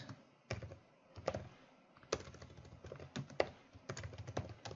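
Code is typed on a computer keyboard in quick, uneven bursts of clacking keys, close and quiet, with no talk.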